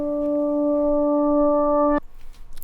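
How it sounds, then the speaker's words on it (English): A reversed electric guitar harmonic swells as a steady sustained tone for about two seconds, then cuts off abruptly into faint residual noise. "It's basically just a harmonic on an electric guitar, and I reversed it."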